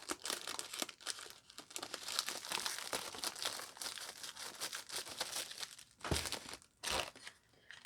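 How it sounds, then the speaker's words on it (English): Packing tape crackles and crinkles as it is pulled and pressed lengthwise across a gift box for a makeup gift basket, a steady close rustling with two sharper ripping bursts near the end. "We're going to use the tape lengthwise."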